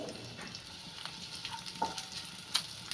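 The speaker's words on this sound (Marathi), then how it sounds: "पहिला कांदा असा परतून घ्यायचा आहे. कांदा चांगला आपल्याला परतून घ्यायचा आहे." Onion sautéing in a pan for tomato chutney, a faint, soft sizzle with occasional light stirring clicks and spoon taps on the pan.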